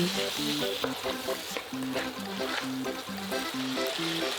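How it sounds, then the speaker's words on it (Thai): Minced pork and bamboo shoots stir-fried with seasoning, oyster sauce and dark soy sauce, sizzling steadily in a hot pan while a utensil scrapes and clacks in a regular rhythm, close and alone. "แล้วก็ผัดทุกอย่างให้เข้ากัน"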